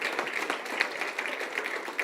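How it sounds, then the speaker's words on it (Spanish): A church congregation applauds during a sermon, a brief, steady patter of many hands clapping together, close and fairly lively for a couple of seconds. "Le da un aplauso al Señor."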